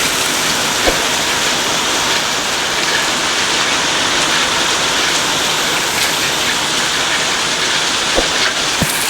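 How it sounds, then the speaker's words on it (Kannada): Steady rain pours down in Harakanalu village, a dense, even hiss of drops on surfaces with a few faint taps standing out, continuous and fairly loud. "ಪ್ರಕೃತಿ ವಿಸ್ಮಯದಿಂದ ನಮ್ಮೂರಲ್ಲಿ ಮಳೆ ಬಂತು."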